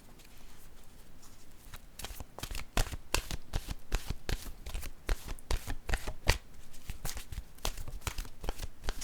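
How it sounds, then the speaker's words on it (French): Tarot cards are shuffled close up, with a steady stream of crisp riffling flicks and slaps that keeps going the whole time, with no voice over it. "Je vais piger maintenant une carte."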